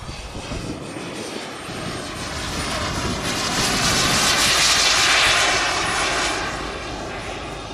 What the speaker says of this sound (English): with Steve flying this absolutely expertly. Brilliant flying.